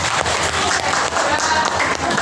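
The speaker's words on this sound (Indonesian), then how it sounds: "Berikan ini tepuk tangan untuk" An audience claps for a girl contestant at a regional-language speech competition. The applause is dense and steady, fills the short moment at a strong level, and has some voices mixed in.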